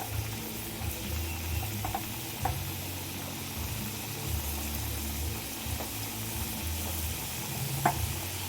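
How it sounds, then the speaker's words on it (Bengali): Vegetable fritters (bora) fry in hot oil in a wok, giving a steady low sizzle and bubbling throughout, with a few faint clinks over the constant hiss. "এবার এটাকে ফ্রাই করে নেবো।"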